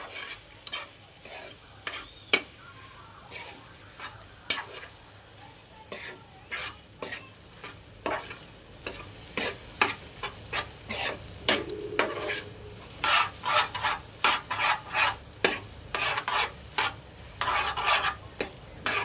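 Noodles stirred in a frying pan, a utensil scraping and tapping the pan in irregular strokes that quicken toward the end, over a soft steady sizzle, close and alone without talk.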